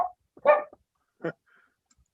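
A dog indoors at home gives two short, loud barks about a second apart, with quiet pauses between them.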